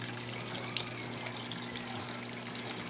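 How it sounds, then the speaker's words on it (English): Faint trickling and dripping water runs down through a dart frog vivarium, a soft steady flow with scattered droplet ticks over a low electrical hum. "You can see everything dripping down to the bottom."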